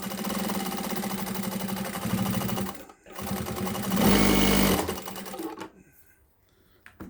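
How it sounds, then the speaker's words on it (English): Sewtech SW-1968-L sewing machine stitching thick work in reverse, a close, loud, rapid mechanical chatter of needle strokes with brief pauses before winding down to quiet. "So the machine can handle thick work really well. Reverse."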